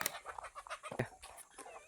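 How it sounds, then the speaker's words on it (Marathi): Soft, irregular clucking from chickens, a few short calls close by with faint rustling around them. "कोंबड्या पण आहे आमच्याकडे त्यांच्यासाठी स्पेशल खुराड आहे"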